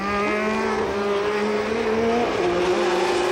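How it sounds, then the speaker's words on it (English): A 1981 Formula 1 race car at the Monza Italian Grand Prix screams past, its loud, high engine whine holding steady and then sweeping downward, with no talk over it. "Past Watson's car he goes."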